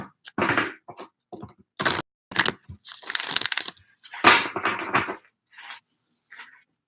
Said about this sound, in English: let's go ahead and get you guys one more shuffle